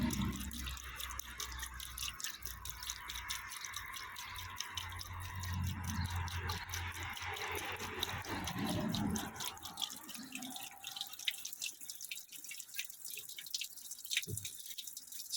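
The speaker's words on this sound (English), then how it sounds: "So as you can see, it sprung a leak, and that is one of the core plugs." Water trickles and drips steadily from a leaking core plug on the engine block of a Land Rover Series 3 Lightweight being topped up after sitting unused for over a year, a continuous close splashing with no talking.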